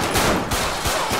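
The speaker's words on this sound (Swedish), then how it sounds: "Åh, skott!" Gunfire in GTA 5 during a police raid: a dense, loud burst of rapid shots with several sharp impacts close together, filling the short moment with no talk.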